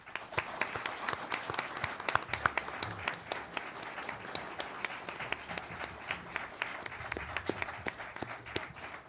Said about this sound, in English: please join me in applauding and welcoming our mayoral candidates